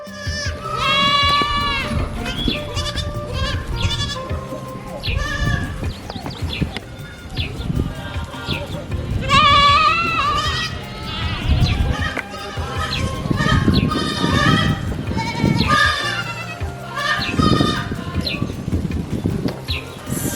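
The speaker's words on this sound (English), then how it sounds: "the goats are coming back from grazing" A herd of goats bleats over and over, many overlapping cries near and far, with shuffling and a voice speaking now and then beneath them.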